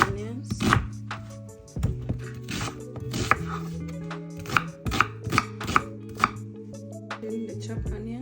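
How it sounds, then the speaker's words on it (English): A knife chops onions on a cutting board for jollof rice, a series of crisp, close, irregular knocks with short pauses, with background music playing underneath. "Chop up 2 large onions."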